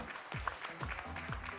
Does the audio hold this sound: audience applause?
yes